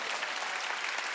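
Brief, steady applause from a church congregation during a Wednesday worship service, a dense wash of clapping with nothing else heard.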